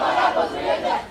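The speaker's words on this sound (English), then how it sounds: "I hired a cheer team to come just welcome us back." A hired cheer team shouts and cheers in a burst of overlapping voices, loud and close, rising and falling over about a second.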